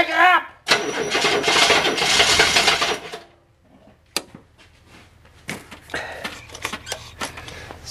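An older diesel engine with glow plugs and an injection-pump solenoid cranks with a loud, steady whirring for about two seconds. Scattered knocks and rattles follow as it catches and settles. A voice is briefly heard at the start.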